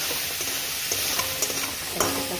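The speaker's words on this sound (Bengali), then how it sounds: "দেখো দিয়ে দিলাম হলুদ আর লবণ, ভালো করে এটাকে ভাজবো" Turmeric and salt are stirred in a hot pan. A soft, steady sizzle plays with light scraping stir strokes, close and fairly quiet, and no voices are heard.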